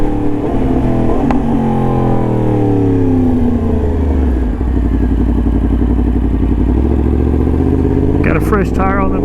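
A 2022 Yamaha MT-10 SP motorcycle fitted with a touring windscreen cruising at high speed, its engine droning loud and steady with shifting pitch and heavy wind rush, as a rider talks over it.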